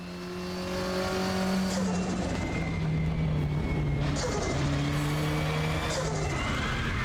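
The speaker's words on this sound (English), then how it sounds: "instead of using the clutch, I'm using the throttle to shift down" A race car engine in Raceroom revs hard, with repeated throttle blips as it downshifts, the pitch dropping and jumping back up in steady shifts, loud and continuous.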